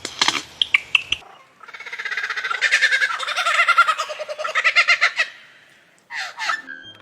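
An Australian lyrebird calling, mimicking other sounds in a varied sequence of sharp clicks, trilling rattles and whistled tones, loud and close, with a brief pause before a final burst.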